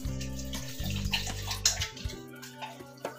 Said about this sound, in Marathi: थोडस आपण पाणी घालू शकतो त्याच्यामध्ये